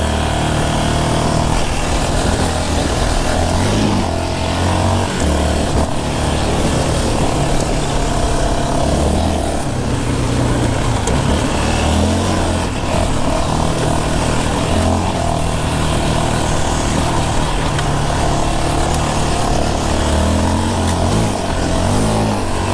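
A 2022 Yamaha Raptor 700R SE ATV engine roars while being ridden over dirt, a loud, continuous, rough drone with shifting revs and wind noise, no voices.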